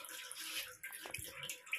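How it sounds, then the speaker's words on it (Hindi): Water drips and splashes softly in a kitchen sink where dishes are being washed, making quiet, irregular plops and trickles close by. "पानी टपक रहा है आवाज़ कर रहा है"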